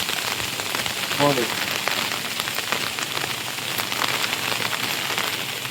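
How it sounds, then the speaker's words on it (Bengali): Heavy, continuous rain pours steadily on surfaces at a rural home in the Sundarbans, a dense loud patter throughout, with a brief voice speaking over it. "বৃষ্টি থামার কোনো লক্ষণই নেই"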